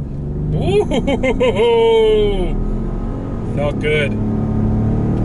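A 2021 Ford F-150 PowerBoost hybrid pickup accelerates hard from 0 to 60 in tow haul mode on an empty road, its low engine drone running steadily beneath a man's excited exclamations inside the cab.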